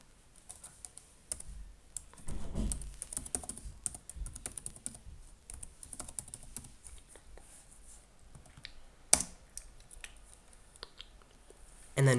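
Keystrokes on a computer keyboard while entering share path settings on an Ubuntu home media server, a quiet run of irregular clicks with brief louder bursts, close and alone.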